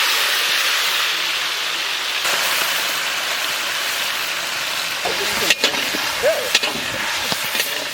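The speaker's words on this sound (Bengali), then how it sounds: "আমরা এখন চিংড়ি মাছ ভাজবো।" Turmeric-and-salt-rubbed prawns fry in hot mustard oil in a village wok, a loud dense hiss that roars continuously with a few sharp pops and clatters near the end.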